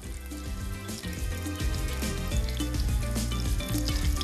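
Fish croquettes frying in hot oil, giving a dense, continuous crackling sizzle close by with fine popping throughout.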